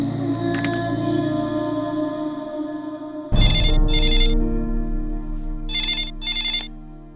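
A telephone rings in two double bursts after a low ambient hum, loud and close, with no talk over it; the scene is from the Bollywood film Shootout at Lokhandwala.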